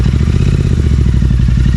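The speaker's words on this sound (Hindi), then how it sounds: "अब हम आपको जल्दी से चेकआउट कराते हैं क्या भाई exhaust note without DV killer दोनों बाइक्स की" A Royal Enfield GT 650 motorcycle idles at around 1500 rpm with its aftermarket exhaust run without the dB killer, giving a loud, steady, close-up low-pitched throb with a rapid, even pulsing beat throughout.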